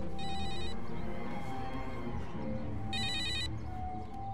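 A telephone rings in two short electronic bursts separated by a pause, fairly clear over a low background hum, with no one talking.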